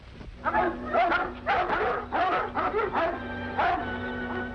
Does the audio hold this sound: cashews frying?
no